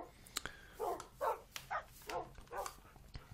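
Dogs in a video game give several short whimpering yips and barks in quick succession, close and fairly clear.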